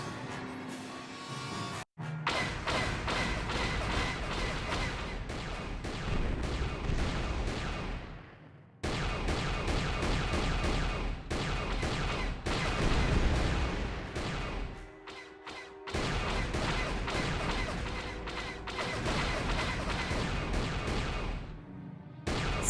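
Repeated turret cannon fire against Sith fighters in the Star Wars game Knights of the Old Republic, a dense, steady barrage of booming blasts running almost continuously with two short breaks, loud and close.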